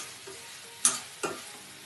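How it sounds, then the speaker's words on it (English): Potatoes and onions sautéing in a pan for a vendaikkai curry, a low steady sizzle broken by two sharp stirring scrapes about half a second apart. "Now we saute the potatoes along with the onions"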